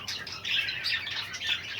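Soft, continuous high-pitched chirping and twittering from Chinese quail, fairly quiet and steady throughout.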